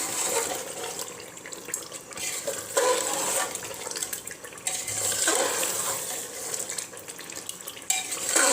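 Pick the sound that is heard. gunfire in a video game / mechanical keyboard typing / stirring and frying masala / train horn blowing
stirring and frying masala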